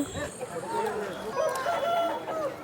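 A rooster crows at a Vijayawada chicken market, one drawn-out, wavering call close by with a few clucks from other fowl and some talk in the background.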